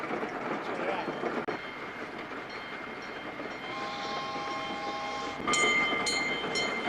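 A train rumbles across a railway trestle with steady heavy rolling noise, heard from on board. Faint tonal squeals or horn-like notes rise near the end.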